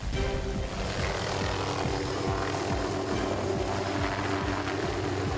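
A lifeguard rescue helicopter taking off, its rotor thumping in a steady rapid rhythm over a continuous engine drone, loud and close throughout.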